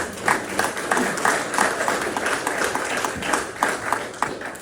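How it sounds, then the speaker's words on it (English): An audience bursts into applause, a dense, steady wash of many hands clapping that holds for several seconds at moderate loudness, with no talk over it. "I wasn't fishing for applause"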